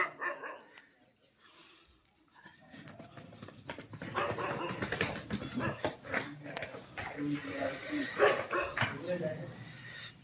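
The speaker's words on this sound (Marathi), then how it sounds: "हा डॉगी भुकतो" A dog barks repeatedly in short bursts outside a village house amid busy outdoor noise and people talking, the barks mid-distance and moderately loud.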